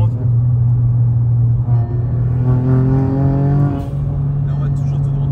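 A car's engine pulls hard in a strong acceleration run, its rising note climbing steadily over a constant low rumble before easing off near the end.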